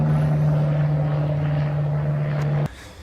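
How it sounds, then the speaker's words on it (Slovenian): An airplane flies overhead with a steady propeller-like drone holding a strong constant hum, loud and unbroken until it cuts off abruptly near the end, leaving quieter background. "glih zdaj gre pa avion."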